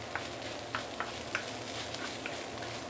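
Rice with light soy sauce being stir-fried in a wok over medium-high heat, a quiet, steady sizzle broken by soft, regular scrapes and tosses of the spatula, with no voices.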